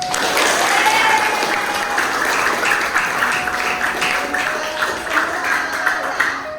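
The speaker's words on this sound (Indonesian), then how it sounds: "Tepuk tangan." Classroom of seventh-grade students clapping hands together in a sustained burst of applause, bright and continuous, with a faint background voice.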